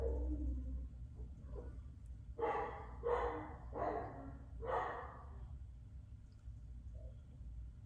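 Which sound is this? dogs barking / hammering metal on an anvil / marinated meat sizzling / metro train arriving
dogs barking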